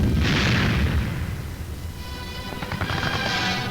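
Artillery firing on a Soviet village strongpoint in 1944: dense, continuous booming and rumbling blasts overlapping into a constant roar, with crackling bursts on top, heavy and loud throughout without pause.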